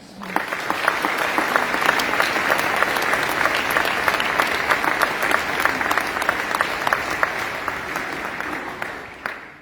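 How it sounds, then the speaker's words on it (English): A concert audience of families at a high school honor concert claps in a sustained wash of applause that fades away at the end. "Will you please give yourselves a big round of applause?"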